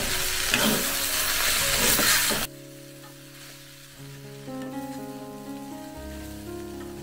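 Okra bhaji with grated coconut sizzles loudly in a pan while being stirred, and the sizzle then cuts off abruptly into quieter tonal background sound.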